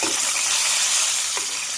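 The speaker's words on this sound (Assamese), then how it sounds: "কেৰাহীত তেল গৰম কৰি তাত মাছখিনি ভাজি লৈছোঁ" Steady crackling sizzle of fish frying in hot oil in a wok, with a faint scrape of a utensil near the end.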